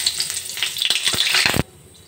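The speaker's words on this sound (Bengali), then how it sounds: "তেল গরম হয়ে গেছে। এবার পরিমাণ মতো গোটা জিরে দিয়ে দেব" Whole cumin seeds hit hot oil in a wok and sizzle and crackle loudly for about a second and a half, then the frying noise drops away abruptly.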